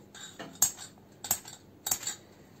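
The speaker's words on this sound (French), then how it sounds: "je vais couper des petits morceaux" A knife slices small pieces from a log of polymer clay on a hard surface, giving three sharp, evenly spaced clicks about half a second apart, each with a brief bright edge, close and fairly quiet.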